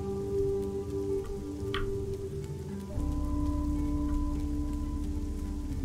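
Rain falling steadily in the video game Fall of Porcupine, a continuous patter on surfaces beneath a sustained hum, with a brief tone shift midway and no talk.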